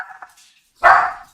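A dog gives a single sharp, loud bark near the end, preceded by a few faint yips and soft sounds in an otherwise quiet indoor setting.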